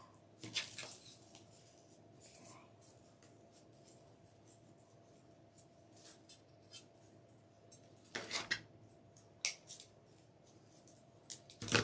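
Scissors snip through deco mesh while trimming pieces for a Valentine's wreath, giving a few crisp, isolated cuts spread across a quiet room with no talking.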